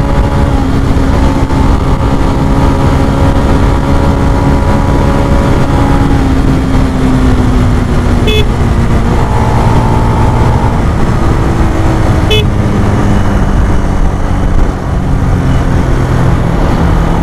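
Loud, steady roar of a Benelli 150i and a 2019 Suzuki GS 150 SE motorcycle in a drag race, engine tones rising through gears with wind buffeting, close and continuous for the whole stretch.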